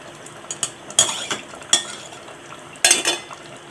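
A spoon scrapes and knocks against a pan while spicy masala tondli curry is stirred, with a few sharp metallic clinks over a soft, low cooking hiss.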